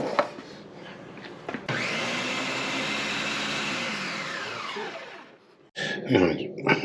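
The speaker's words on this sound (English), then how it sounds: "now we're gonna blend this one up" A blender whirs steadily for several seconds, blending San Marzano tomatoes for a simple marinara sauce, with a loud continuous motor tone that winds down before some knocking and handling.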